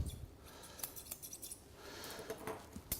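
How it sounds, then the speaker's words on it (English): Curved scissors snip at a Cockapoo's coat during grooming, a series of quiet, crisp metallic clicks spaced irregularly, close and faint with no talk over them. "just using the curved scissors again"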